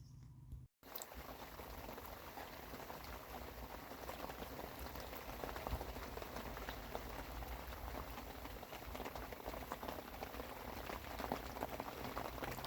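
Kettle of water boiling outdoors on a freezing winter fishing trip, a steady dense bubbling hiss that runs on evenly after a brief pause near the start.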